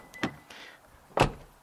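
Pulling the door handle of a 2013 Lexus GS unlocks it with a couple of soft mechanical clicks and a louder latch clunk, close and otherwise quiet.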